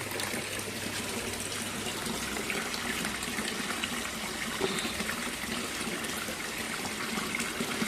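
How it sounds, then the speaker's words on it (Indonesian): Tap water runs steadily from a faucet into a fish tank, a continuous broadband splashing and trickling rush held at an even level throughout with no talk. "Kita tambah air dan kita tunggu dia sampai airnya terisi."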